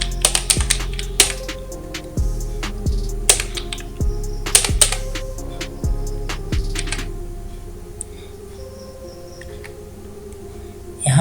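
Rapid clacking keystrokes on a computer keyboard, close and fairly loud, arriving in quick bursts with brief pauses, then thinning out to near quiet toward the end.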